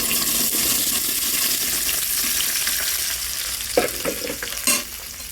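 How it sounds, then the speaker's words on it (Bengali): Bori frying in oil tempered with five-spice, a continuous loud sizzle close by, broken near the end by a couple of scraping stirs of the spoon in the pan. "কিছুক্ষণ তেলের মাঝে এইভাবে নেড়ে দিব, যেন যদি থেকে থাকে কিছু জল যেন কমে যায়"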